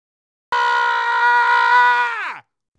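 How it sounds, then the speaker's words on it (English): A single long, loud human scream, sustained for about two seconds with a steady pitch that falls off at the end, close and alone with no other sounds. "Scream."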